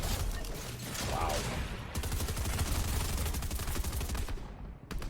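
Rapid SMG gunfire from a battle royale game comes as dense, overlapping bursts of close shots, with a short break near the two-second mark before another sustained run of rattling fire that thins out at the end.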